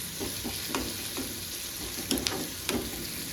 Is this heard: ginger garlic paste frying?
yes